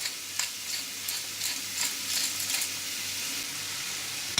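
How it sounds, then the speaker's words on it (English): Minced meat, seasoned with salt and pepper, sizzling and frying in a pan with light stirring scrapes, a steady close crackle throughout. "It's been cooking for 5 or 6 minutes. The meat is all browned."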